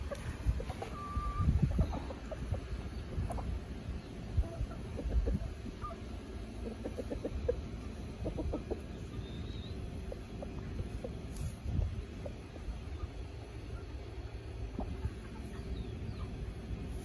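Free-range chickens peck at scraps, giving soft scattered clucks and murmurs that run on at low volume against quiet outdoor background noise, with no talking.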